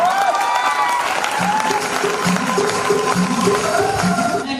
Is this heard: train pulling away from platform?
no